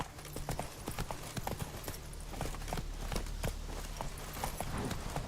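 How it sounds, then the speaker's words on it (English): A horse gallops in The Witcher 3 video game, a steady run of quick, crisp hoof clip-clops close by with no talk over it. "Run, Roach."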